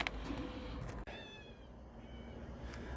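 Stray cats call near an outdoor feeding spot with a homemade automatic feeder, a single faint drawn-out meow rising after a brief sharp click amid quiet ambient noise.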